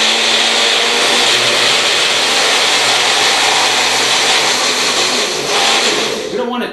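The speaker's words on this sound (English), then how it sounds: "let's put it on the blender" A blender whirs loudly and continuously, blending raw vegan pad thai peanut sauce for several seconds at close range before winding down at the end.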